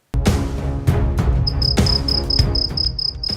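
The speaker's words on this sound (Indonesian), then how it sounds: "kalian bangun bukan untuk jam alarm, tetapi suara jutaan jangkrik" Crickets chirp loudly and close by, a rapid repeating high-pitched trill that becomes steady and pulsing partway through, mixed with rustling bursts of noise.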